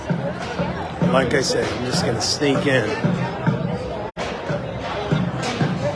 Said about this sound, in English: Man, there's a massive crowd going on.